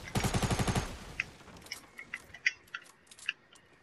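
A rapid burst of automatic gunfire in the Fortnite video game, about ten fast shots over the first second, followed by quieter scattered clicks and game effects.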